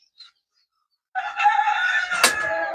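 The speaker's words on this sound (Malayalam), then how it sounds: "പിന്നെ കോഴികൾ, ഫാൻസി കോഴിയുടെ കുട്ടികൾ" Fancy chickens on a goat farm: after a brief chirp and a pause, a rooster's loud, close crow rings out steadily for over a second, with a short sharp cluck near the end.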